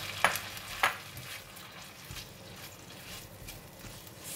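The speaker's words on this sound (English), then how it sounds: "Stir fry it until the kuey teow is cooked." Kuey teow noodles stir-fry in a pan with a steady close sizzle, and two sharp utensil clinks come early on.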